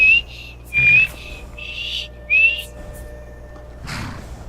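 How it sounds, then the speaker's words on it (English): In Skyrim, the player character whistles at a follower: several short, sharp, high whistle bursts in an uneven rhythm, close and fairly loud over a quiet background. "I guess I can whistle at Faendal too."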